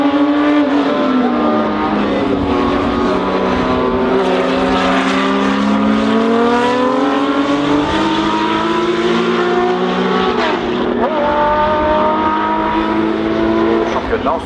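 A Porsche 917 race car at the Le Mans Classic roars loudly and continuously, its engine note sweeping up and down through gear changes, with other racing engines blending in.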